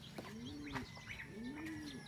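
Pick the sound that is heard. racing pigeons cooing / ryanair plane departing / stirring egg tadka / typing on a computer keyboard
racing pigeons cooing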